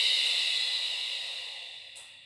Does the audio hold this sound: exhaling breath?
yes